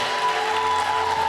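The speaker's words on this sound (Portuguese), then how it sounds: "Salva de palmas ao Senhor." A church congregation applauds during a Sunday service, a dense, steady wash of clapping filling the brief moment, with a sustained tone ringing underneath.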